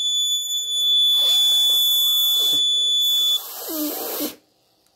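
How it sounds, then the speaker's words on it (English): A humidity alarm buzzer on an ESP8266-based smart agriculture and automatic irrigation system sounds as a steady, loud, continuous high-pitched electronic tone lasting about three and a half seconds, with background noise around it. "Alarm on."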